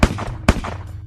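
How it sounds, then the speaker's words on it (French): Gunfire inside a villa: two sharp, loud broadband bangs about half a second apart, each with a short reverberant tail, close and alone with no talk. "Peu de temps après, 4 coups de feu résonnent dans la villa."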